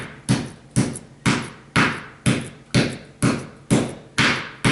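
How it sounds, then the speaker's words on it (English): A small meat tenderizer hammer with nail-studded face pounds thin, fatless pork slices in a steady series of about nine sharp, evenly spaced thuds, close and loud with no talking. "I'm taking my little hammer here with little nails on that side"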